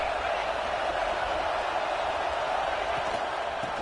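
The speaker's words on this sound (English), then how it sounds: "This crowd bringing the energy and noise early." Stadium crowd at a Texas Tech versus Texas A&M football game, a steady, dense roar of cheering and noise that holds evenly throughout without breaks.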